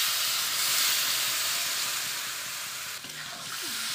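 Water goes into a pan of potatoes fried with cumin, coriander and red chilli powder, sending up a strong, continuous steamy hiss that dips briefly and then carries on bubbling.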